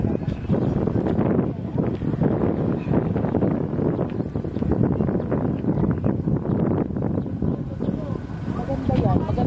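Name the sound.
strong wind outdoors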